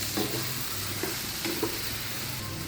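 Raw banana pieces fry in oil in a pan, a steady close sizzle with a few soft stirring scrapes, no talk over it.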